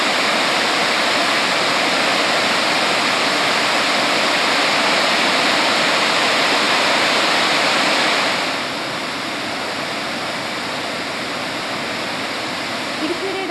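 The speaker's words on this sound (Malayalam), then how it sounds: "മലങ്കര അണക്കെട്ടുകളിൽ നിന്നും വെള്ളം പുറത്തേക്ക് ഒഴുക്കേണ്ട സാഹചര്യവുമുണ്ടായി" Heavy water released from dams in Idukki, Kerala, gushing as a loud, steady roar of rushing water that holds throughout, easing slightly in level partway through.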